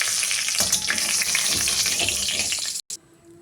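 Oil sizzling steadily in a wok as dried chillies and whole cumin fry, a loud continuous hiss that cuts out briefly near the end and returns quieter.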